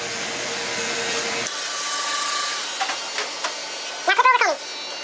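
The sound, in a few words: Wahl cordless Sterling 4 clippers with 1.5 guard cutting hair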